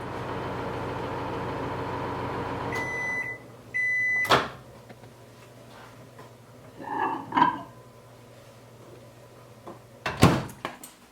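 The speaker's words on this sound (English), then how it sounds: "then you can put it back into the microwave for that 1 more minute" A microwave oven hums steadily, then beeps twice and stops; a door clunks open, followed by a couple of soft handling noises and another clatter near the end.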